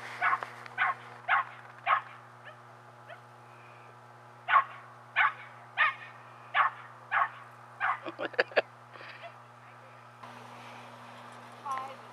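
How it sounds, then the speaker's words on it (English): Dogs at a dog park bark in a string of separate, fairly close woofs, with a quick burst of sharper yips near the end, over a low steady hum. "Go see the doggies, Dolly."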